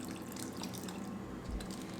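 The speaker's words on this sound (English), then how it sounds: "Add some salt and dilute it with some cold water." Cold water trickles and splashes steadily into a bowl of full-fat yogurt while a salad dressing is mixed, a soft continuous pour heard close.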